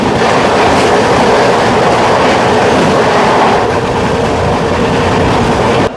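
The Rupasi Bangla Express, train 12884 running from Purulia Junction to Howrah, roars along loud and close, a constant rushing rumble with rhythmic wheel clatter that cuts off abruptly at the end.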